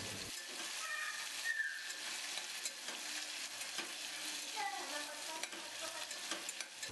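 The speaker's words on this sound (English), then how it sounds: "And fry them till the tomatoes mashed." Tomatoes frying in a pan for tomato dal rasam, a continuous sizzle with scraping stir strokes of a spoon against the pan, close and alone without talk.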